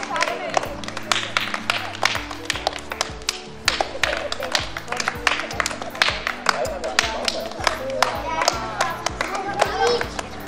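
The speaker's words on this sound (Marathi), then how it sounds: "टाळ्या चालू राहू दे." An audience keeps up steady, dense clapping at a 2016 gathering, the claps continuing without a break over music playing underneath.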